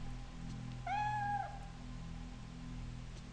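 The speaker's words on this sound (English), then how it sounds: "Kitty. What are you doing up here?" A cat in the Fatal Frame 3 video game gives a single clear, rising-then-falling meow, moderately close, lasting about half a second over a steady low ambient hum.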